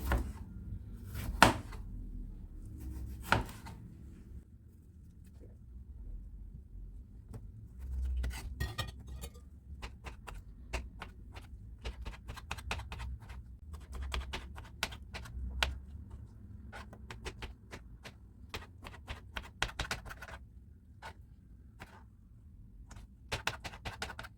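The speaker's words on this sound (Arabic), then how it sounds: "راح أثرم الطماطم" A knife chops tomatoes on a cutting board: irregular sharp taps and a few heavier knocks, with a quicker run of close, light chops in the latter half. Nobody speaks.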